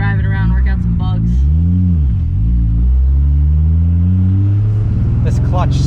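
A Toyota Supra that has sat unused for a while drives along with a single-disc clutch, its engine giving a steady, close, low rumble with rising and falling revs beneath people talking.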